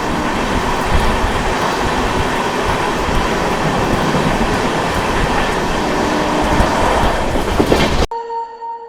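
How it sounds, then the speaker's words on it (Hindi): An Amrit Bharat Express train roars along while overtaking the Kosi Super Express, a loud continuous rush of wheels and rattling carriages that runs unbroken for about eight seconds before cutting off abruptly. "हम लोग ये ओवरटेक कर रहे हैं पूर्णिया कोट और झारखंड के हटिया के बीच चलने वाली कोसी सुपर एक्सप्रेस को"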